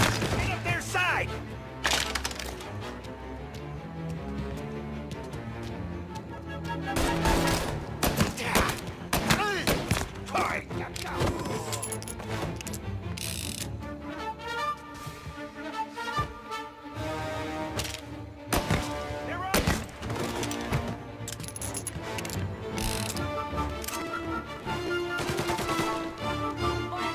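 Gunfire in Mafia: Definitive Edition, with repeated sharp shots and bursts cracking through a busy game soundtrack of music and effects, alongside shouted voices.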